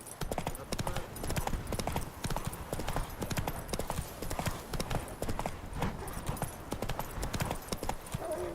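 Roach the horse trots along in The Witcher 3, a dense, continuous clip-clop of hooves running steadily throughout, loud and close.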